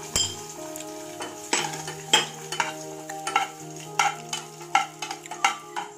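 Raisins and cashews fry and sizzle in a pan as a spoon stirs them, with repeated sharp clinks of metal against the pan over a soft sizzle, close and fairly quiet, and no talking.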